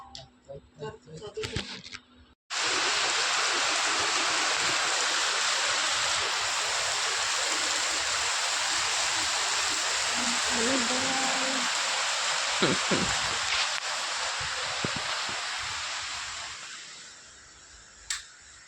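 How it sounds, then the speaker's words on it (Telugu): Heavy rain pours down in a steady, dense roar after a brief stretch of speech, then fades somewhat near the end, with a few faint knocks. "ఇప్పుడంటే గట్టిగా వర్షం పడుతుంది, గంట అవుతుంది పడుతుంది"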